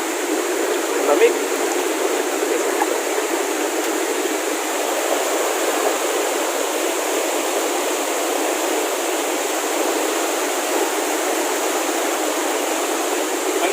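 Steady broadband rush of falling water at Vera Falls in Albay, Philippines, constant and fairly loud throughout, with no other clear sounds standing out.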